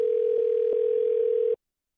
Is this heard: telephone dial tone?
yes